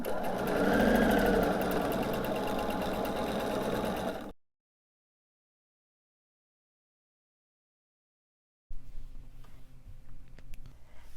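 A sewing machine runs steadily while piecing quilt fabric, a close continuous motor whir lasting about four seconds, then a gap of silence and faint rustling handling noise.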